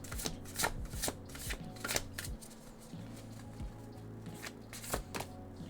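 Cards being handled and drawn from a tarot deck during a reading: repeated crisp shuffling riffles and slaps close to the microphone, in irregular bursts with no talking.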